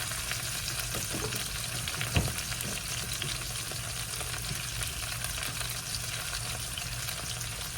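Brussels sprouts sautéing with garlic powder and lemon pepper in a pan, giving a steady, close sizzle with light crackles and one brief stir-clatter near the start, with no voices.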